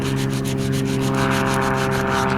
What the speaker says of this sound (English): I'll have to get in here and do a little sanding on this